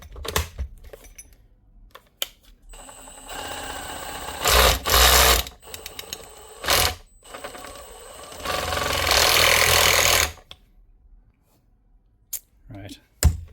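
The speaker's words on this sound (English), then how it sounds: "She's hammering, but she's slipping on drill mode." An M18CHX hammer drill with a fault makes it slip in drill mode while still hammering. It runs in several loud, rattling bursts, the longest about two seconds, separated by quiet pauses and scattered clicks.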